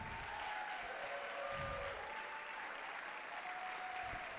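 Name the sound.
audience applause for intermediate school band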